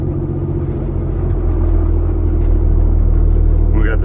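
A truck's engine rumbling deep and steady at close range while the truck turns around, the low drone swelling slightly partway through.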